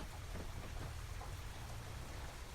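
Heavy rain pours down in Farming Simulator 25, a dense, constant hiss of drops drumming on surfaces with a deep low rumble beneath, steady and unbroken with no talking.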